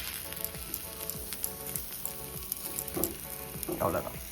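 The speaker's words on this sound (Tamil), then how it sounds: "இப்போ எப்பவும் போல் நாம் சுற்றிரும் எண்ணெய் விடலாம்" Oil is poured around a ragi and drumstick-leaf adai cooking on a hot pan, setting off a loud, close sizzle with popping crackles that rise toward the end.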